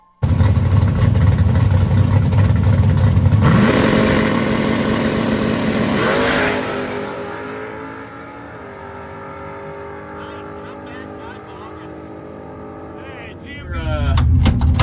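Race car engine at a benefit race, roaring loudly and steadily close by, then easing to a lower drone before revving up again at the end, with voices faintly underneath.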